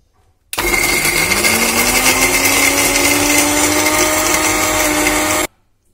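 A mixer grinder grinding almonds with a little milk into a fine paste whirs loudly and steadily for about five seconds, its motor pitch rising slightly as it spins up, then it stops abruptly.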